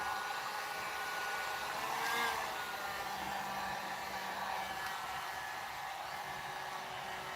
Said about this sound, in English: my heat gun did just shoot out a little bit of fire